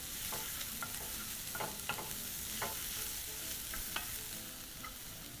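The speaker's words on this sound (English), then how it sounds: "Using a wooden spoon, proceed to mix everything in your pan." A wooden spoon stirs aromatic vegetables in a pan on medium heat: steady close sizzling and frying with scattered light scrapes and taps of the spoon against the pan.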